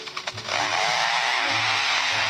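A lyrebird in southeast Australia mimics a forester's chainsaw, giving a sustained buzzing roar after a few stuttering pulses, steady and fairly loud with a low throbbing underneath.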